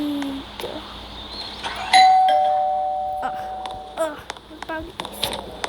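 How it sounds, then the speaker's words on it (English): A doorbell chimes loudly with a clear sustained ding-dong tone on a doorbell camera, ringing out and decaying over a couple of seconds while a voice and other voices talk around it. "Not ding dong again."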